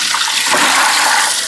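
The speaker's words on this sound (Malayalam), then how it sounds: "അടുപ്പത്ത് വെച്ച് ഒരു 2 ലിറ്റർ വെള്ളം ഒഴിക്കാം" About two litres of water pours into a copper pot set on the stove, a loud, continuous, rushing splash filling the whole short stretch.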